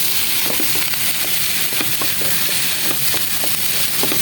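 Chinese mixed vegetables frying in a pan, a steady loud sizzle with scattered crackles and occasional stirring knocks, close and continuous with no talk.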